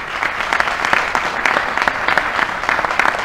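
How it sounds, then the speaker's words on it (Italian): Audience applause after a musical stage show in Cerignola, a warm, steady round of clapping from a large crowd, moderately near and continuous for a few seconds. "meritate veramente un grande applauso ancora una volta"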